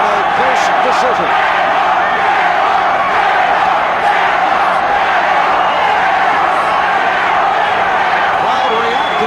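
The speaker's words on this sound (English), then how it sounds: "Crowd reacting" A boxing arena crowd roars steadily through a ninth round between Robert Hines and Darrin Van Horn, a dense, continuous wash of voices and shouts with no pauses, loud and unbroken.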